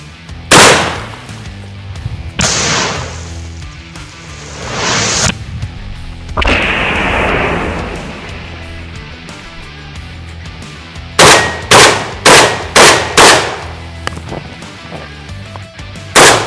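A Beretta 1301 Tactical shotgun fires slugs on an outdoor range: a few loud, spaced blasts with ringing tails, then a fast string of five shots and a final shot, each followed by a brief echo.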